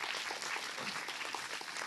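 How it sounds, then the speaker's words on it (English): Audience applause greets a speaker at an AI and architecture symposium, a dense, even clatter of many hands clapping steadily throughout, with no voices on top. "So please welcome her with a round of applause."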